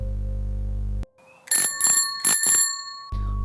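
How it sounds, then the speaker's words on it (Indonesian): A bicycle bell rings three or four quick, bright metallic dings close by, between stretches of a low steady hum. "mendengar lonceng sepeda berbunyi tepat di belakangku"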